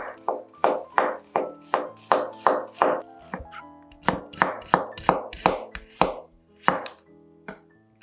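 A knife cuts two medium onions into half or quarter rings, giving a steady run of crisp chopping strokes on a board. There are about two dozen close, evenly spaced hits with a short pause midway.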